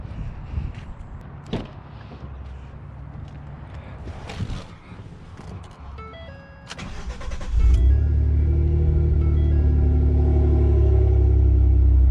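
A Ford EcoBoost pickup truck engine cranks over after a few clicks and thuds, then catches and settles into a loud, steady low idle rumble that continues to the end, with no one speaking.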